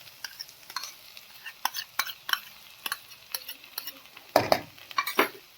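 A spoon stirs sauces through cabbage in a hot pan for noodles, giving a string of scraping clinks and soft sizzling, with a louder clatter near the end.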